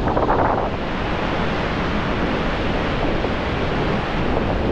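Surf and wind on Woolacombe beach in North Devon, a constant broadband roar of breaking waves mixed with wind buffeting the microphone, loud and unbroken throughout, with no voices.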